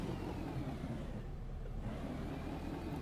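URAL Next truck engine in Euro Truck Simulator 2 holding a low, steady rumble, quiet and continuous with a slight swell of revving and no talk over it.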